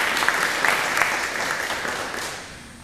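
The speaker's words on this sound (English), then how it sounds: "Jean Hill, another round of applause" A neighborhood meeting crowd applauds the center's director, a moderate, fairly distant patter of clapping that holds steady before tapering off toward the end.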